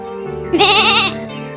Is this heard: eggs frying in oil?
no